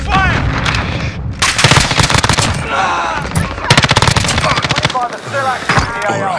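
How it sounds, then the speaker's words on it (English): Rapid bursts of machine gun fire in a Call of Duty: Modern Warfare match, loud and close, with dense rattling volleys broken by short pauses and a player's voice talking over the shooting. "I'm taking fire!"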